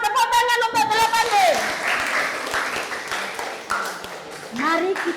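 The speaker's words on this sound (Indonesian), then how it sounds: "Tepuk tangan untuk 8B." Students of class 8B at a Surabaya junior high school break into loud, sustained applause during a classroom game, with cheering voices and shouts mixed throughout the clapping.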